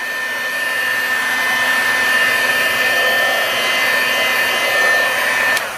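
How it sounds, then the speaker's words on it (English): A heat tool blows steadily for several seconds while drying patina on cardstock, a close, constant whirring blow with a thin high whine, cutting off at the end. "So what I'm going to do is use the heat tool and dry that a little bit."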